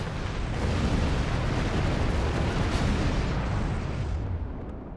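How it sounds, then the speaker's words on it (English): A big, rolling explosion in the space game Star Trek Online, a loud sustained roar lasting several seconds before slowly fading, with no voices. "Ooh, I like that explosion. It was a pretty explosion."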